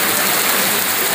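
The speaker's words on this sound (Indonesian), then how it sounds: "Berkah, hujan." Steady rain falls during outdoor work, a continuous broadband hiss of drops with no breaks and no talk over it.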